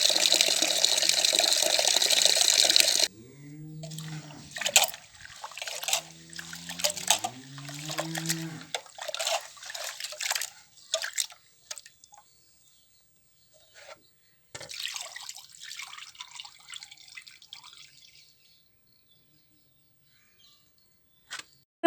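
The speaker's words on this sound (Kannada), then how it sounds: "ಅದಕ್ಕೆ ನೀಟಾಗೆಲ್ಲ ವಾಶ್ ಮಾಡಿಡ್ತಾ ಇದ್ದೀನಿ" Ration rice being washed in water for dosa batter, with splashing, swirling and trickling water sounds, loud running water at first, then intermittent sloshes and drips fading toward near silence.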